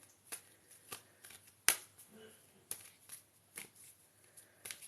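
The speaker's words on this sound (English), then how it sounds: "Okay, let's shuffle" Tarot cards being shuffled in a quiet room, a run of soft riffling and sharp card snaps repeating every half second or so, close to the microphone, with no talking.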